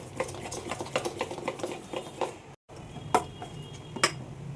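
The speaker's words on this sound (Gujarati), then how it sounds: "સોડા નાખ્યા પછી એક જ ધારે મિક્સ કરવાનો એને એક જ સાઈડમાં" Rhythmic scraping and clinking of a spoon stirring thick bhajiya fritter batter with soda added, in one direction in a bowl, repeated strokes at a steady pace, close up with no talking.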